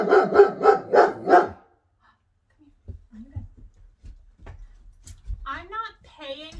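A dog barks five times in quick, evenly spaced succession, loud and close, followed by quiet shuffling, faint vocal noises and a few soft whines.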